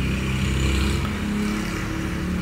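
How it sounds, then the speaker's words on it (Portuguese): A car engine passing outside, a steady low rumble and drone that holds loud throughout, with a slight swell near the start and no talk over it. "Desculpe, pessoal, o barulho do carro."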